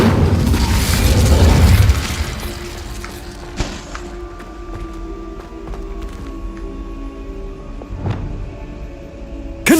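A fire spell cast in the game Hogwarts Legacy opens with a loud whooshing, booming burst that fades over about two seconds, followed by quieter ambient rumble and a few scattered impacts and pops.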